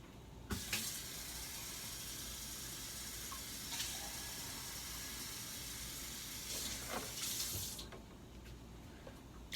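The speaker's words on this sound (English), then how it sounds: "I'm going to take them, fill them up with water." Tap water running into cans of Lipton onion soup mix, a steady quiet hissing stream with a few short clanks and bursts as the flow shifts, no talking.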